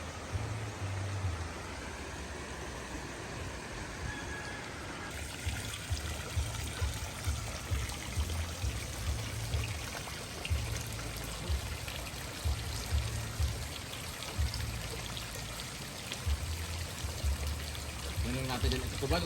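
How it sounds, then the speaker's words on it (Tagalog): River water flowing steadily in a relaxing outdoor spot, a continuous broadband rush heard nearby and filling the whole stretch, with low rumbling and faint voices in the background. "Kasi, ayun o, may ilog po siya."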